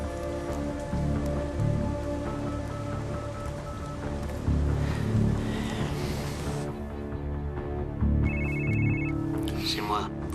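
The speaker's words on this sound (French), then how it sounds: "Votre téléphone." A telephone rings in repeated electronic trills late in the scene, fairly faint under loud rain-like noise, with people talking.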